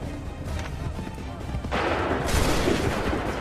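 Soldiers' muskets fire a volley in Assassin's Creed III, a burst of rough, overlapping gunfire that swells into a dense crackling roar partway through, with shouted commands nearby.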